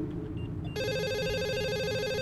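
A telephone rings in an indie horror video game, a steady electronic warbling trill that starts abruptly and continues loud and even over a low ambient drone.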